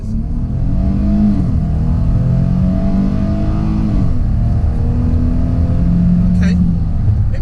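A 2018 Dodge Challenger GT AWD with a 3.6L V6 accelerates hard, its engine note rising steadily and droning loud and close throughout, as heard from inside the car.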